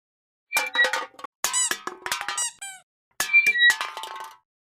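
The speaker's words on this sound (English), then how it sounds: "Is your signature 80s knife slashing sound feeling a bit rusty?" Three bursts of sharp, high metallic scraping and squeaky ringing swipes, each a second or so long, separated by short silences.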